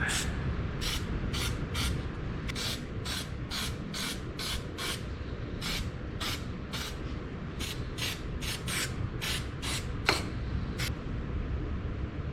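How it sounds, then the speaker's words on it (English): Rapid short hisses from an aerosol adhesive spray can onto a gasket during transmission work on an International 1066 tractor, about twenty quick bursts in a row over a steady low background hum. "I'll just take some more adhesive here and spray on my gasket."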